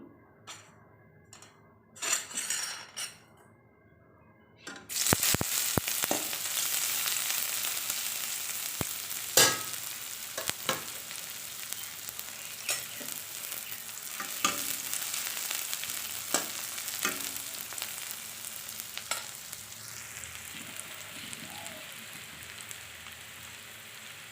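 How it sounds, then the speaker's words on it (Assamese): A few clattering knocks, then a sudden loud sizzle as chopped onions hit hot oil, frying steadily with occasional stirring clicks. "দুটা পিঁয়াজ কাটি লৈছো আৰু এতিয়া তেলখিনি দি দিম"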